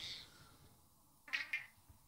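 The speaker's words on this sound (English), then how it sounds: "He meowed out of nowhere." A cat gives a couple of short, soft meows in a quiet outdoor setting, a faint call near the start and a clearer two-part meow a moment later.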